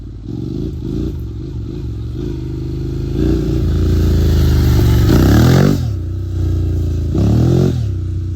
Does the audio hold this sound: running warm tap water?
no